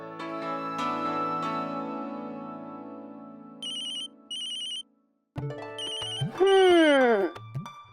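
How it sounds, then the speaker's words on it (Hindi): A phone rings with an incoming call in a Hindi TV drama scene: bright electronic ringtone chirps come in short repeated bursts, then a louder ringing burst rises over background music. No one speaks. "ये देखो आ गया पापा का फोन।"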